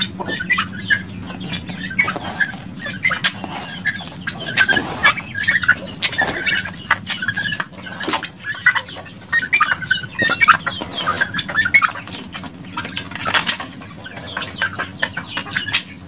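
Rhode Island chickens cluck at a farm, with repeated short calls and clucks scattered throughout over a low steady background hum, moderately close.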